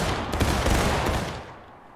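A massed volley of Civil War-era muskets fired in the War of Rights game, erupting as one dense, loud crackling blast that rolls on and tapers away over about two seconds.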